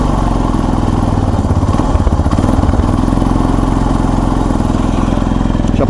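A motorcycle engine runs with the choke on, held at raised revs so it won't stall, making a loud, close, steady buzzing drone with a slightly uneven, clattering beat and no speech.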